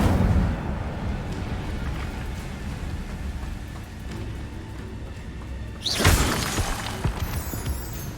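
The Incendio fire spell in Hogwarts Legacy erupts with a sudden loud whoosh and crackling burst after a stretch of quiet ambient hiss, fading into a sizzling roar.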